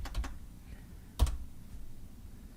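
A few light clicks of keys on a computer keyboard, a quick cluster of taps followed by a single key press after a pause, close and quiet with no talking.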